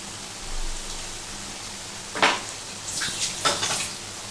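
Spiced soybean, potato and pointed gourd curry stirred in a frying pan: a soft steady sizzle with a few scraping stirs of the spoon against the pan, close and quiet, no voices.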